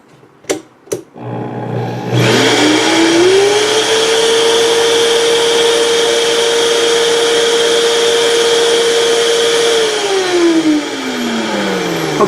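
A Vitamix blender spins up after two short clicks, rising into a loud, steady high whine that holds for about eight seconds before winding down slightly near the end, with no voices.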